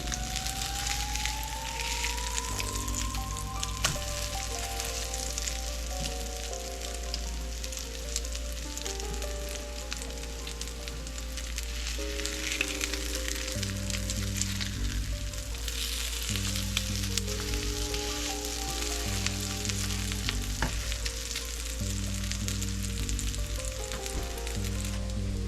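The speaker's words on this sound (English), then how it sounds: "Make sure to move the oil under the patty as you flip it." Salmon patties frying in oil in a pan, a steady close sizzle and crackle that continues unbroken for the whole stretch, with a faint low hum underneath and no talking.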